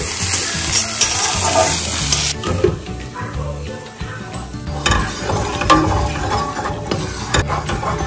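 Bitter gourd fries in a pan with a close sizzle while a utensil stirs and scrapes it in uneven strokes, and a dog barks faintly in the background.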